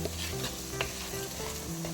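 Tomato and chili fry in a pan while being stirred, a close sizzle under scraping strokes of a spoon against the pan, with no talk.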